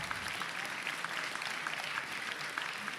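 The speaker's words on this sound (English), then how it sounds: "Let's get one more round of applause for them, please, for all the ones that competed." Crowd applause for competing teams at a 3v3 grand finals event in San Diego, continuous dense clapping heard at a moderate distance, steady and unbroken for the whole stretch.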